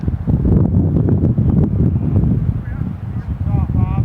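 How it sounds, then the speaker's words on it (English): Wind gusting across a golf course fairway near pine trees, a low rumbling buffeting on the microphone that stays loud and steady, with faint tonal sounds near the end. "A little bit of a wind."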